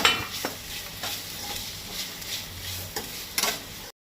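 Onions sautéing in a pan at home, with a constant close sizzle broken by repeated scrapes and knocks of a spoon stirring, cutting off abruptly at the end.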